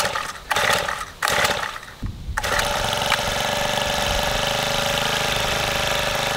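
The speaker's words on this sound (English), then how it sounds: "So this little Honda GX25 machine is sweet. It's an awesome little garden tiller." A small Honda GX25 engine on a garden tiller starts out choppy with a few brief dropouts, then settles into a continuous, buzzy idle at moderate volume.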